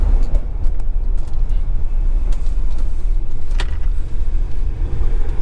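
A RAM truck fitted with an AMP'D throttle booster pulls away under acceleration, its engine a steady, heavy low rumble with road noise that stays loud and continuous throughout.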